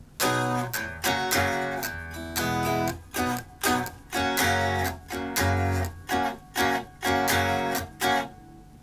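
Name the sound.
guitar playing first two measures of a song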